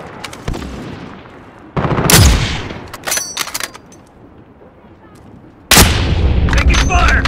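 Gunfire in Call of Duty: Modern Warfare (2019), a team deathmatch on PS5, with loud close bursts of automatic fire and sharp single shots separated by quieter stretches, mixed with brief game voice callouts.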